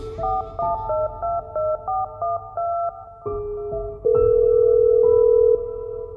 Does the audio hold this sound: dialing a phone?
yes